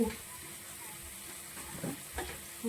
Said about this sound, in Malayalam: നമ്മുടെ ഉള്ളിയെല്ലാം വഴണ്ട് വന്നിട്ടുണ്ട്